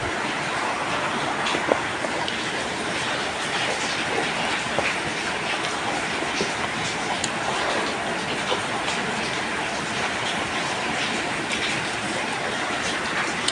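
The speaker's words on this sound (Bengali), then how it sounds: "প্রচুর বৃষ্টি হচ্ছে, প্রচুর," Heavy rain pours outside a house on a rainy day, a dense, steady hiss that holds at an even level throughout with no voices.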